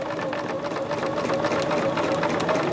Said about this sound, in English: Now what I will do on this one is sew directly on that line